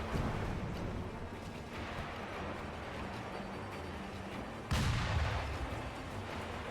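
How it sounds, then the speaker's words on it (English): Sustained gunfire from enemies in the video game Sekiro, a dense continuous barrage of booming shots with a sharp louder burst near the end, no talk. "And they're all shooting at me."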